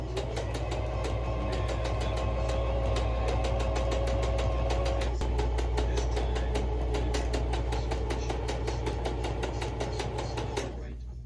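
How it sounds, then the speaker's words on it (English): A sewing machine stitches a seam on a sling bag made from an old rain jacket, giving a steady rapid clatter over a constant motor hum that runs evenly before stopping at the end. "and I'll sew along that seam"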